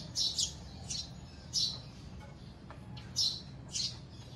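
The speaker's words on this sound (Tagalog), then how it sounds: "Daming ibon sa puno namin." Many birds in a tree chirp and squawk in short bursts, spaced a second or so apart, over a quiet outdoor hum.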